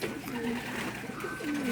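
Racing pigeon cooing softly in low throaty notes, close by, while someone speaks over it.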